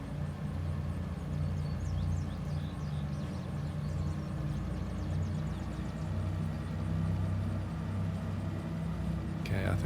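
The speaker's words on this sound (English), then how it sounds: "I can hear the engine over there" A locomotive engine idles in Derail Valley as a steady mid-pitched mechanical drone with a constant hum, heard from a distance while a person talks over it.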